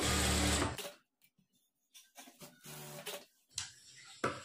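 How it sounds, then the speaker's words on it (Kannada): A sewing machine stitches blouse lining pieces in one short, loud, rapid run at the start, followed by quiet fabric handling and light clicks. "ಇನ್ನೊಂದು ಕಡೆ ಈ ಥರ ಪೀಸನ್ನು ಇಟ್ಕೊಂಡು ಸ್ಟಿಚ್ ಮಾಡ್ಕೊಳ್ಬೇಕು."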